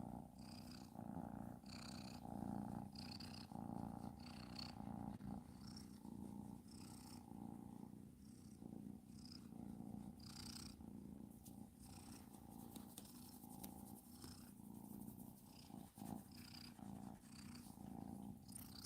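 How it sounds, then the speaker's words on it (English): A steady, continuous purr rumbles close up for the whole stretch, soft and even with gentle rhythmic pulses. "Can you hear all that purring?"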